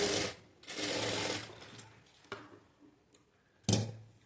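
A sewing machine stitches a blouse seam in a tailoring lesson, running in close, loud bursts: a long whirring run, a shorter one, then brief stops and restarts.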